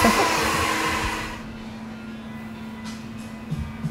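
A blow dryer roars loudly up close, then cuts to a quieter steady hum for the rest of the clip.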